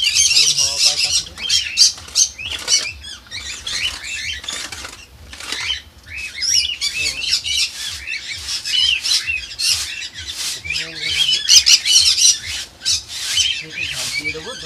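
Java sparrows in their bird house give sharp, repeated squawks and chirps in busy bursts, with wing flutters and scuffling close by.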